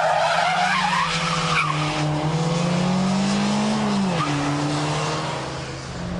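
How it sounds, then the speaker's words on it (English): A front-wheel-drive car doing a handbrake turn into a reverse flip while drifting, tires squealing loudly in long sliding tones with the engine humming underneath, close and continuous before easing off at the end. "The handbrake turn to go backwards, and then follow that with a reverse flip."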